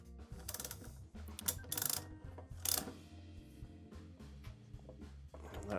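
A ratchet on a custom chopper's springer front end snugs up the axle castle nut, giving a quick run of close, faint clicking and metallic taps with a few sharper clanks in between.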